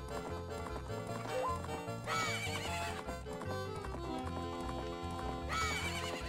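A horse gallops with steady clip-clop hooves and neighs during a horse race in the Zelda Majora's Mask video game, mixed with game music at moderate level.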